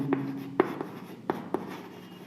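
Chalk or marker writing on a board in a physics lesson, a handful of short sharp taps and strokes at uneven intervals, close and fairly quiet against a faint room background.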